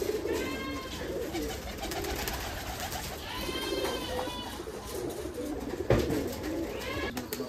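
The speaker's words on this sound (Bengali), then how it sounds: "আপনি কবুতরগুলো খাইতে দেন, দেখি সব কবুতরগুলো" Pigeons coo repeatedly at a pigeon farm, a chorus of soft, throaty calls overlapping close by with no talk.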